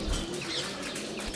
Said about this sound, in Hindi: कबूतर है, कौवा है